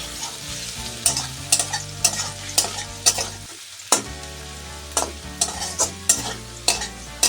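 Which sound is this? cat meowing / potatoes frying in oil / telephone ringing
potatoes frying in oil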